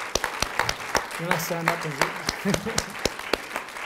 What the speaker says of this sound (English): she's the one that deserves some applause right now.